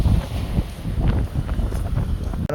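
Strong wind at a seaside fish market buffets the microphone in heavy, continuous rumbling gusts, loud and close, with no voices clearly heard.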